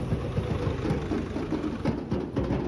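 A tractor engine rumbles at night as it hauls a procession along a rain-damaged road, a steady mid-low drone with uneven knocks and no talk.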